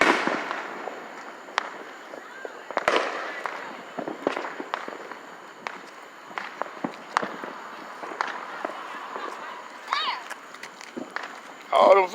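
Fireworks and firecrackers going off at a backyard Fourth of July show, with repeated sharp cracks and pops scattered throughout, a dense crackling burst near the end, and people talking over them.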